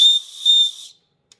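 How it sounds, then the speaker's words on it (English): An emergency whistle on a rechargeable lighter's lanyard gives two loud, shrill, close blasts, the second a touch longer, then cuts to silence with a brief faint chirp after. "that's a pretty loud whistle"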